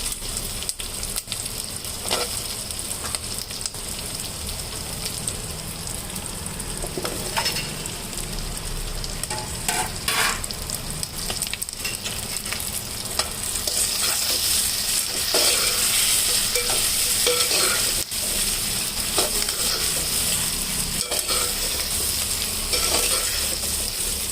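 Sweet potatoes fry with turmeric in a pan with a constant close sizzle and occasional stirring scrapes. The hiss grows louder and brighter partway through.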